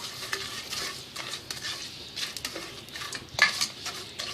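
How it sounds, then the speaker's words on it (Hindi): Onions sautéing in a pan for Lahori chickpea curry, with spoon stirring and scraping against the metal over a soft, steady sizzle, plus one sharper clink near the end; no talking. "ये मैंने इसमें 1 प्याली अपना जो प्याज है ये मैंने डाल दिया। इसको मैं सौते कर लूँगा।"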